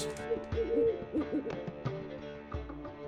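Owl in the game The Witcher 3, a short series of soft low hoots spaced irregularly, close and clear against a quiet background.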